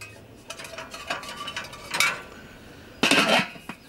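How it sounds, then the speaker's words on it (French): Rattling metallic clatter as a metal grill grate is set onto a Cobb Premier portable barbecue, with scattered light clinks followed by a brighter, louder scrape and clank near the end, close and alone. "Je vais simplement déposer ma grille et la laisser chauffer avant de commencer"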